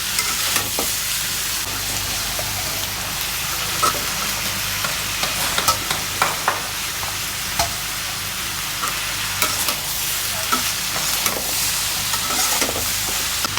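Onions and cornflour stirred in a hot frying pan, a steady loud sizzle with scraping stir strokes running throughout, no voices.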